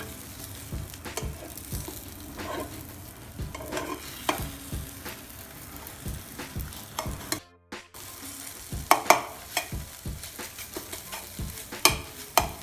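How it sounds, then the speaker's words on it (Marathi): Scrambled egg mixture being stirred in a hot pan, a steady run of close scraping and stirring strokes over a soft sizzle, with a brief silent break midway. "तर 1 मिनिट झाल्यानंतर हे पूर्णपणे अशा पद्धतीने एकत्र करायचे आहे"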